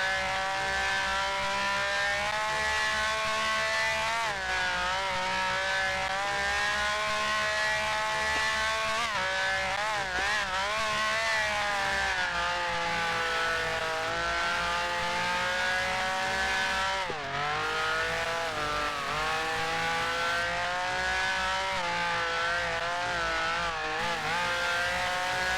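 An F1 car in a racing sim howls through a lap with the front brakes repeatedly locking, its engine note dropping and rising in steady downshifts and throttle blips, loud and close with no talk.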